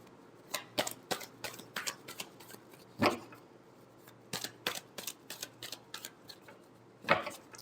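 Tarot cards are shuffled in quick, crisp riffles and snaps, with bursts clustered unevenly across several seconds and heard up close without any talking.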